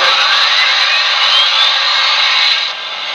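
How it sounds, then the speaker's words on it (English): A Paragon2 sound system on an HO-scale NYC 20th Century Hudson model steam locomotive by Broadway Limited plays its engine sound, a loud, steady hissing drone heard up close that dips slightly near the end. "So, now the engine is on. And it's loud."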